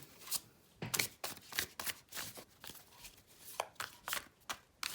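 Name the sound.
shuffling tarot cards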